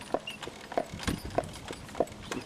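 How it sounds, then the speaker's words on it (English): A pair of horses walks along, their hooves clip-clopping in a steady, even rhythm at moderate distance, with no voices heard. "2 horses."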